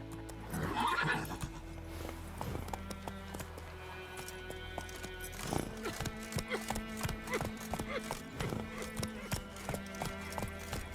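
A horse in The Witcher 3: Wild Hunt gallops with rapid rhythmic hoofbeats after an opening whinny, set against game music and ambience, with a voice speaking briefly.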